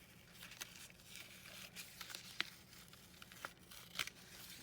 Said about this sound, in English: So now all I have to do is just carefully remove that tape.